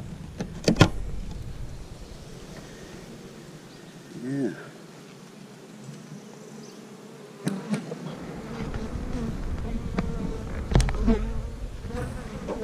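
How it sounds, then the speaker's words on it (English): Bees buzz around a backyard hive, a steady insect drone with occasional nearer passes, joined by brief knocks and handling sounds. "these bees are a little different than the bees at my house, temperament-wise"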